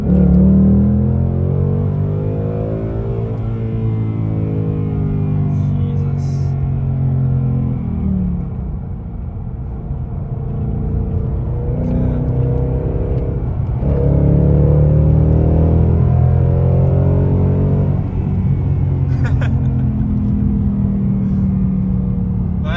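A 2019 Ford Mustang GT with a 5.0 V8 and six-speed manual is pulling hard from inside the cabin, its loud rumbling engine note climbing steadily through repeated gear pulls, with a brief dip between shifts.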